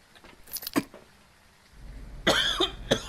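A person coughs twice close by, one short cough early and then a harsher burst later. Soft rustles and handling noises fill the gaps, with no talking.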